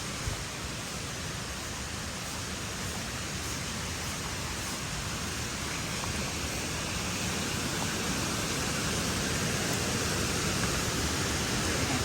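Near cocoa trees in hill country around Kozhikode, a waterfall rushes in a constant thick roar, close and unbroken, growing slightly louder toward the end, with no talk over it.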